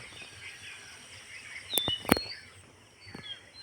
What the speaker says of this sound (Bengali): কত সুন্দর পাখির গান